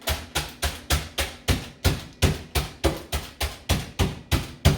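Walnuts crushed under a glass in a home kitchen, a steady run of about fourteen sharp, close, loud knocks and crunches at a quick even pace, with no talking.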